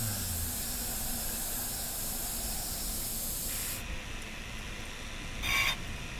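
A manly spray can hisses as it burns in the fireplace of the Little Inferno video game: a continuous spray hiss that shifts tone partway through, then a brief, sharper burst near the end.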